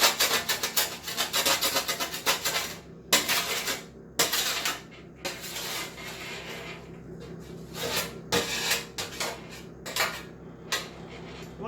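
A metal utensil scraping oil and blackened bits off a roasting tray used for beef bones, in repeated harsh rasping strokes with short pauses, close and loud with no talk.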